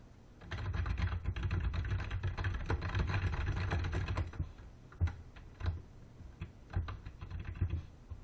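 Typing on a computer keyboard while working in Microsoft Word: a dense, steady run of keystrokes for about four seconds, then sparser clusters of taps, close and alone.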